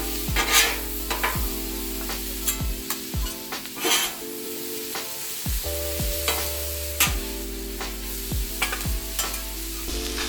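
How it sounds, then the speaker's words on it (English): Onions sizzle steadily on a 36-inch Blackstone griddle while a metal spatula scrapes and stirs them in repeated sharp strokes, with a faint sustained tonal hum running underneath. "Just make sure that you move the onions around. You don't want them to burn on you."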